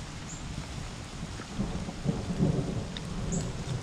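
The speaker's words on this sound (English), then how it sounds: "Did I hear thunder?" Low rumbling thunder rolls beneath steady rain, swelling louder in the middle and lingering, with no voices present.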